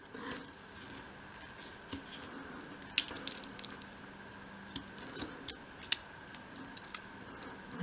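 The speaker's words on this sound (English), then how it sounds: "and then you should be able to cut through in a couple of goes." Craft knife scoring and cutting through thin material for a 1/12th scale miniature tray table, a quiet steady scraping with a few sharp clicks and snaps spaced out over several seconds, no talking.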